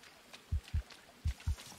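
Heartbeat effect from the jungle survival video game Green Hell, two paired low thumps, each pair a lub-dub, clear and close with quiet gaps between.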